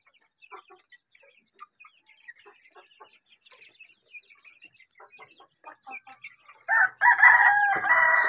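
Rhode Island Brown chickens cluck softly and repeatedly nearby, then a rooster lets out a loud, close crow at the end.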